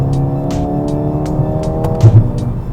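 A Mercedes-AMG A 35 accelerates hard, its turbocharged engine note rising steadily, loud and close from inside the car, with a few faint clicks and thumps on top.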